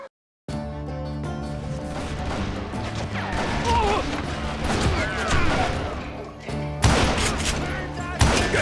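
Gunfire erupts in a Wild West shootout in Call of Juarez Gunslinger, a dense fusillade of shots and crashes running continuously with music, growing louder near the end.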